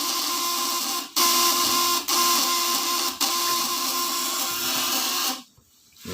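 A high-voltage device fitted with three capacitors runs smoothly, giving a steady electrical hum with a constant tone, briefly cut off three times and then falling silent near the end.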